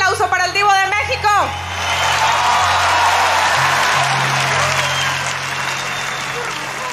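A concert crowd in Acapulco bursts into loud, sustained applause right after an announcer's voice, clapping filling the room for several seconds.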